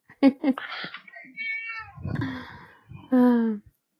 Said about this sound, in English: The cat's name is Trixie